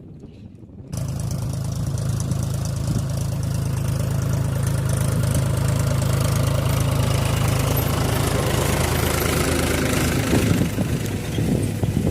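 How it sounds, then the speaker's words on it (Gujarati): A tractor engine runs steadily at close range, a loud, continuous low throbbing idle that holds almost unchanged throughout. "ટ્રેક્ટર હાલવા માંડ્યું છે"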